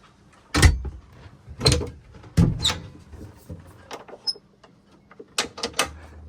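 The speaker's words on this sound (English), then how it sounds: "Here we have doors so you can close, and lockers with life vests." Cabin doors and locker doors swinging shut aboard the sailboat Argo II, a string of distinct knocks and clunks spaced about a second apart, close and fairly loud, with softer small bumps in between.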